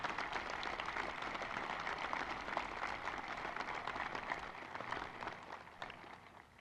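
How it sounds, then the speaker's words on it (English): A graduation crowd at West Allegheny's 2022 commencement applauds its teachers, a sustained, dense, fairly distant wash of many hands clapping that holds steady and then thins slightly toward the end, with no talk over it. "our teachers deserve an outstanding round of applause"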